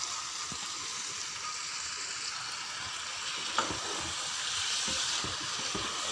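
Mutton paya being stirred with spices in a pot, giving a steady soft sizzle and hiss with occasional light scraping knocks from the stirring, fairly quiet and close.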